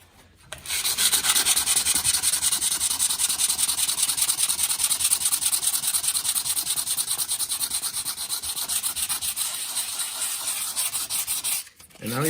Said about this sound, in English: Now we can sand it.